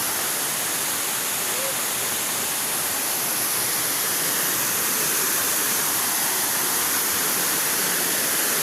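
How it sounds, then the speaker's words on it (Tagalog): A waterfall at a falls in Basilan roars as a constant, dense rush of water, loud and unbroken throughout with no other sounds standing out. "dito na po tayo sa falls"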